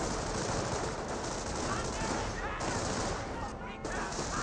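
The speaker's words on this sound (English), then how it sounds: "Airborne squad does receive suppressive fire there." Suppressive gunfire in the video game Company of Heroes crackles as dense, rapid machine-gun bursts in a battle scene, with a commentator speaking over it.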